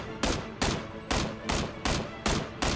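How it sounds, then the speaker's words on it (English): An auto shotgun fires in a first-person video game, seven loud blasts at a steady rapid rhythm, each a sharp broad crack with a short tail, close and clear with no talking. "I shotgunned the driver four times with the auto shotty."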